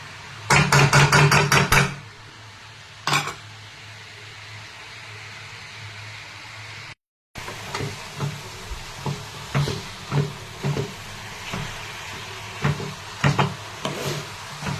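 Grated carrot halwa is stirred in a pan: a dense burst of rapid scraping clatter at first, then quieter, scattered spatula taps and scrapes with gaps between them.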